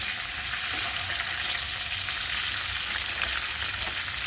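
Ingredients for sweet and sour spicy chicken sauté in hot oil in a pan, giving a loud, continuous, close sizzle with a steady hiss and faint crackles throughout.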